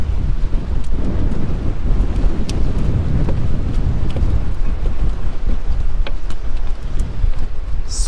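Strong wind buffets a fishing boat during sheepshead fishing off Clearwater, Florida, a loud, continuous roar of gusts on the microphone with faint water and hull sounds beneath, and no talking.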